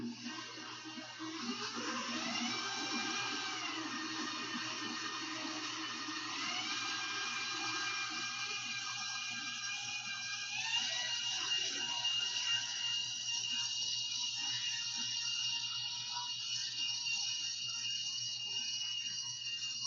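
Stand mixer with a paddle attachment beating Viennese bread dough, a steady mechanical whir and hum that runs continuously with slight rises in pitch, close and moderately loud, with no talking.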